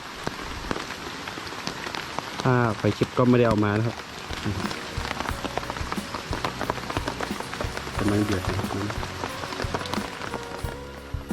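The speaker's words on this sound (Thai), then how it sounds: "ตอนนี้บรรยากาศกลางสายฝนนะ" Steady rain patters on surfaces all around in a forest in a dense, continuous hiss, while someone talks briefly over it.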